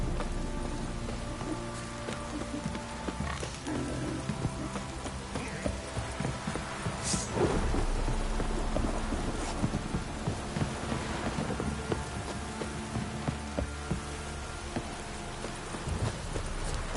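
A heavy downpour with thunder in the Witcher 3 video game roars as a continuous loud wash of rain, mixed with low rumbles and rhythmic hoof-like clopping, with no voices.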